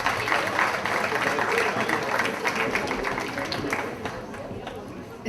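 An audience at a volunteers' evening applauds in a dense, steady wash of clapping from many hands, moderately loud and continuous throughout.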